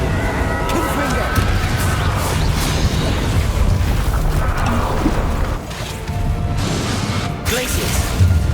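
Explosive bursts from the Confringo fire spell in the video game Hogwarts Legacy boom and crash repeatedly under a steady wash of battle noise and voices.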